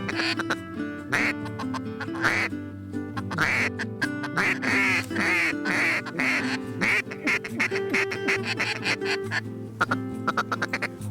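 Mixed species of ducks quacking repeatedly in front of a hunting blind, a busy run of loud overlapping quacks and honk-like calls close by, with steady chatter throughout.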